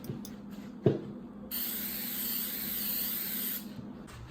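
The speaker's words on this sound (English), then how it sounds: "A few coats of spray on poly, and we'll have our box complete and finished." Spray-on polyurethane finish hisses steadily from an aerosol can onto a small wooden box, a continuous close burst lasting about two seconds, preceded by a brief knock and faint handling sounds.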